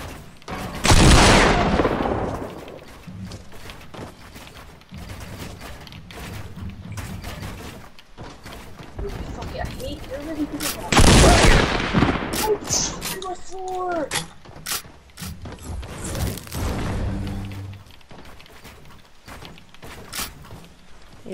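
Double-barrel shotgun fire in a video game, loud single blasts at separate moments with quieter mechanical clacks and reloading sounds between them, while players talk over it.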